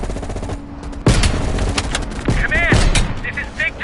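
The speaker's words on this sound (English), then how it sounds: "You readied your sniper rifle to assist." Gunfire in Call of Duty Black Ops Cold War during a ridge firefight, loud sharp shots and bursts cracking close by amid rumbling battle noise and a voice speaking.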